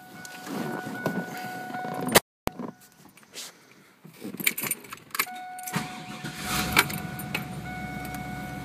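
Keys jangle close by, then a 1997 Chevrolet Camaro Z28 convertible cranks and fires, settling into a steady low idle rumble after a brief silent gap.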